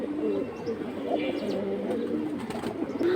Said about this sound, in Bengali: সিলভার লাইনের কবুতর, খুবই সুন্দর কবুতর।